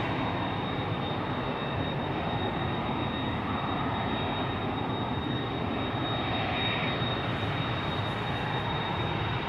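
Steady loud roar of an EasyJet airliner's jet engines idling while lined up on runway 18 left at Amsterdam Schiphol Airport, a constant broadband rumble with a thin high whine, no talk.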